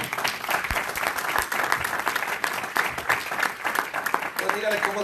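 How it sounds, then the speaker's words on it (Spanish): A church congregation at a Spanish-language service claps together in dense, continuous applause that stays fairly loud and even across the whole stretch, with no talking over it. "Denle un aplauso al Señor."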